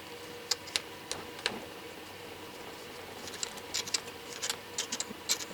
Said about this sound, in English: I'm using a crosscut file because it'll grip it whilst I put downward pressure on it.